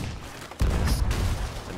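Cannon fire during a pirate ship battle in the video game Sea of Thieves: a sudden heavy boom that rolls into a sustained rumbling blast with crackling debris, loud and close.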